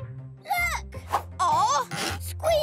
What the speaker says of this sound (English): Squeaky floorboards!